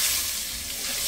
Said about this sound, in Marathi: हे आमचं सोलापुरी तिखट, काळं तिखट मी तेलात टाकत आहे, ज्यामुळे फोडणीला कलर छान येईल।